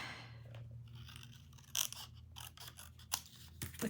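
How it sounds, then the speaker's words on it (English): Scissors snip through card stock in a handful of short, crisp cuts and crunching closes, close to the microphone in a quiet room. "I don't usually cut with the scissors"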